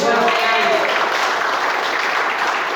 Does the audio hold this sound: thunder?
no